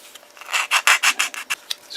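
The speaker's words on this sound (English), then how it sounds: "take your sanding file, make these nice flat edges" A sanding file rasps along the cut edges of a model car trunk deck lid in a quick run of about eight short strokes, close and fairly loud, with no talk.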